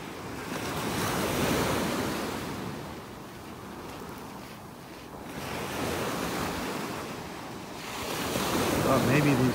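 Ocean waves break and wash up on a beach in North Naples, Florida, on a windy morning, surging and receding in steady swells with buffeting wind noise against the microphone.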